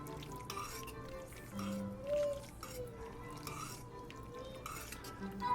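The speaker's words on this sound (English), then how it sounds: "We're going to stir." Sau Tao Tom Yum Kung instant vermicelli noodles are stirred in a pot with a utensil, giving soft swishing and occasional light clinks against the vessel over a low background hum.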